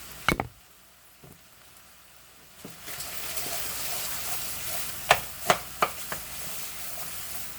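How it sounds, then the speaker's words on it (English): Food simmering and sizzling in a pan for a budget keto casserole or stew, a steady soft frying hiss with a few sharp spatters and clinks near the end, no talking. "we'll let that simmer"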